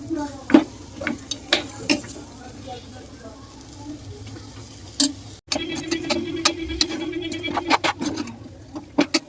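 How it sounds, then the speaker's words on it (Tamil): A spoon stirs masala-coated chicken in a pot for biryani, with scattered scraping clinks and soft sizzling, while a voice talks over it throughout. "அது வரைக்கும் நல்லா சிக்கனை கிளறி விடுங்க."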